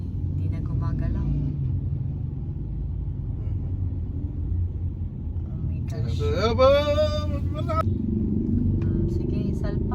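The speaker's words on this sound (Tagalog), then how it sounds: "O, ganyan po ka-traffic po papuntang SM po" Jammed traffic on the road to SM La Union, a steady low rumble of idling engines nearby, with a person briefly exclaiming partway through.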